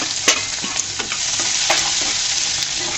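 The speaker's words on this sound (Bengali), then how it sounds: "পেঁয়াজ রসুনগুলোকে সুন্দর করে ভেজে নিব।" Chopped onion and garlic fry in hot oil in a pan for a hot mash of helencha greens, a steady close sizzle broken by a few sharp scrapes of stirring, with no voices.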